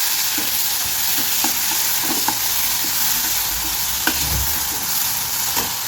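Whole spices such as cumin, mustard seed and bay leaf frying with masala in hot oil, giving a steady hiss of sizzling with occasional small stirring clinks and pops throughout, close by, with no talking.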